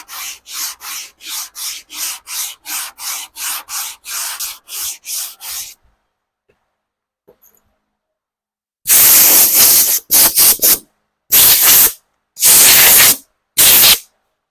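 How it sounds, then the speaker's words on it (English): An 80-grit longboard sanding block is worked by hand over auto body panels, making about a dozen steady, evenly spaced rasping strokes up close. A pause follows, then several loud, harsh bursts of rushing air. "what we have here is a longboard sanding block. It's got 80 on it, and we're going to go ahead and work it down to a certain point with this"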